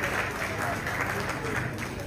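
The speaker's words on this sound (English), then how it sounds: "A round of applause for him," Audience applause at a stage event with a panel, a continuous, fairly even wash of clapping from a sizable crowd in a large room, heard from some distance with no clear voices.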